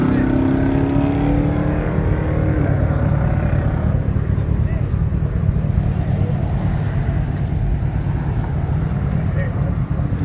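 Cars at a busy car meet, with a steady loud engine drone and rumbling from several vehicles still pulling in, heard close and continuous with talk over it.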